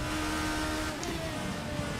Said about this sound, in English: I've gone with the 2019 to 2020 sound pack, which is the Porsche with the side exhaust rather than the rear